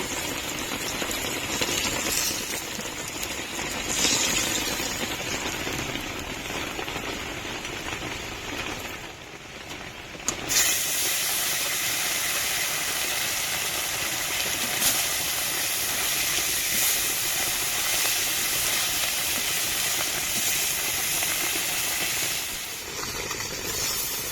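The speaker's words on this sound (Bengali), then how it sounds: "মাছটা ভাজা হয়ে গেছে তুলে নেবো" Sea fish frying in a pan gives off a steady, dense hiss and sizzle that runs close and fairly loud throughout, with a brief dip and crackle partway through.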